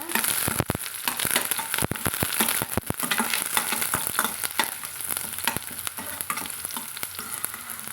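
Continuous sizzling and crackling of shallots and curry leaves frying in hot oil in a pan, with irregular scraping and stirring clicks throughout.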